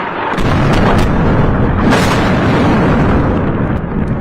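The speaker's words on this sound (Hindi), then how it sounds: "देखिए इधर ये पुल कैसे धमाके से उड़ा दिया लेबनान में" A bridge being blown up in an attack in Lebanon: a loud, continuous explosive roar with booming, gunfire-like bursts layered through it, close and heavy from start to finish, with no voices.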